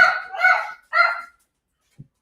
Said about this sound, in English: Now he's barking.